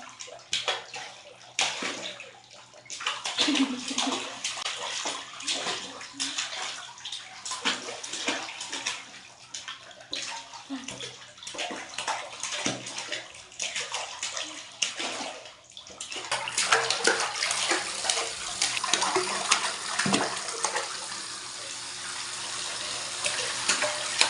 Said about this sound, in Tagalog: masarap maligo na